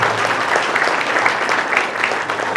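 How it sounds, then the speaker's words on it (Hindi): A roomful of people clapping together, a dense steady patter of applause that holds at an even, fairly loud level. "एक बार हम सब एक दूसरे के लिए तालियां बजा लेंगे"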